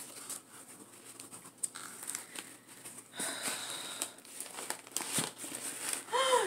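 A houseplant shipping box is cut open and unpacked up close, with faint scraping, cardboard and paper crinkling and rustling, and occasional soft taps, without talk.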